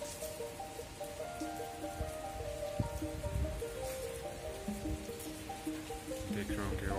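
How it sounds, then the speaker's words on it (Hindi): Steady morning rain falls in Shimla, a continuous soft patter on surfaces with a constant hiss and no pauses, heard alone without voices. "मॉर्निंग का टाइम है और यहाँ पे बारिश स्टार्ट हो गई है।"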